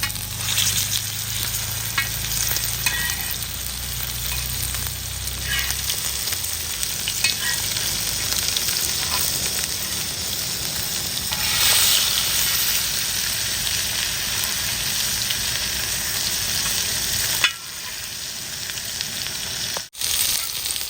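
Pieces of bocha fish fry in hot oil, a long, steady sizzle up close, with a low rumble at first, some swelling bursts, and a sudden drop near the end.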